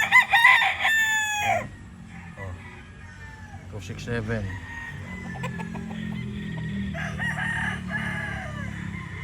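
A Roundhead gamecock rooster crows loudly at the start, followed by clucking and scattered poultry sounds while someone talks over the background.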